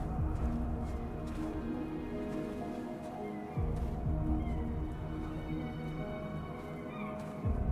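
A cat meows a few times at moderate loudness over a steady indoor background hum, the calls short and spaced apart with no talking.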